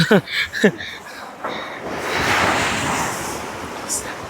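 Ocean waves wash onto a seashore in a steady, moderately loud surge, rising and fading, with wind noise on the microphone and a person's voice briefly at the start.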